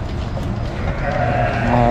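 Goats in a sacrifice pen in Makkah bleating over a low, busy crowd of livestock noise, a few near calls rising against the rumble.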